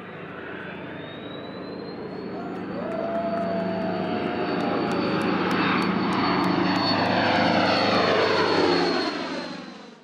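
Neptune Aviation P2V tanker aircraft flying together in a formation flyover, a loud propeller-engine drone that swells and holds steady as they pass overhead.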